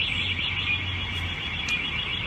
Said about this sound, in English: every mall has sirens going off, alarms.